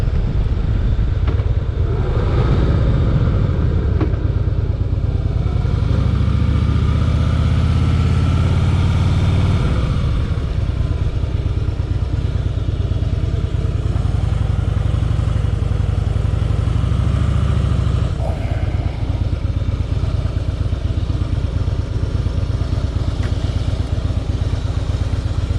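A 2013 Harley-Davidson Deluxe FLSTN cruiser rumbles steadily while being ridden, its deep engine drone loud and constant throughout, with swells of throttle and road noise layered over the low thump.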